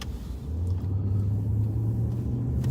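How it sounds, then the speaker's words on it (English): A police patrol car drives through a residential neighborhood, its engine a steady low rumble that rises slightly as it moves, heard from inside with no talk. "we're gonna go drive through the grumpy old men neighborhood"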